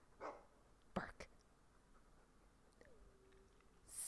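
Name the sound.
dog barking in video game Dragon Age 2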